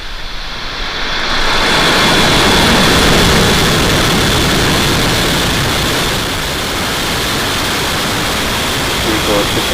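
A SpaceX rocket lifts off carrying 53 Starlink internet satellites on a foggy day, its engines building into a broad, roaring rumble that swells and then holds steady and heavy.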